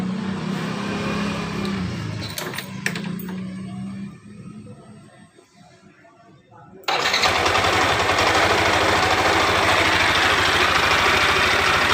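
Yamaha NMax scooter engine cranks with a few short starter bursts, falls quiet briefly, then catches and settles into a steady, loud, rough idle that continues to the end, with speech heard early on.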